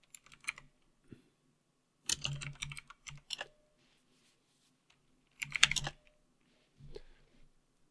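The word "git" being typed at a command prompt on a computer keyboard: short bursts of close keystroke clicks separated by pauses, with no talking.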